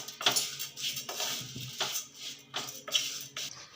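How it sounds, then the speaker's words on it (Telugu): Vermicelli roasting in a pan for egg semiya is stirred now and then, giving a series of scraping, clinking strokes of a utensil against the metal pan, close and fairly quiet, with no voice. "సేమ్యా ఇలా మధ్య మధ్యలో కలుపుకుంటూ వేయించుకోవాలి"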